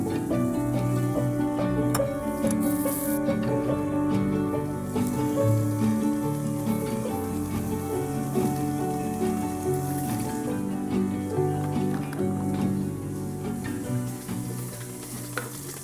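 A stand mixer beats granulated sugar for a lemon Bundt cake, giving a steady whirring hum with a faint rattle that runs unbroken and fairly close for the whole stretch, with no talking.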